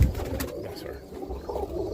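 A roller pigeon hen coos softly and close by, a low throaty burble that repeats over a faint background.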